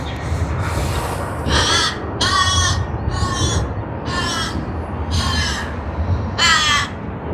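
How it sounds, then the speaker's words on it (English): Crows cawing around Sydney Airport, six loud harsh caws in a steady series, close by, over a constant low background rumble. "we have crows around and they are literally making noise out here"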